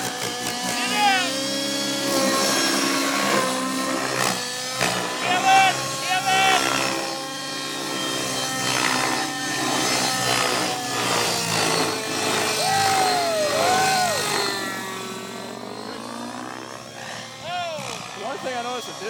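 A radio-controlled Total G T700 helicopter flies under heavy load, its rotor and motor giving a continuous whine whose pitch rises and falls throughout.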